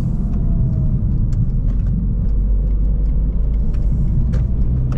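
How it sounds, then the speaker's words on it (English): A VW Golf Mk5 estate on adjustable coilovers rounds a corner, its steady engine and road rumble loud and close from inside the cabin, with faint ticks and rattles over the constant drone. "Right then, just jumped in the car on the way home"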